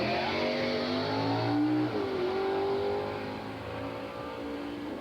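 A 1955 Chevy sedan delivery drag car makes a solo run down the strip, its engine screaming loud and close through a rising pitch, then dropping with a shift and tapering as it pulls away.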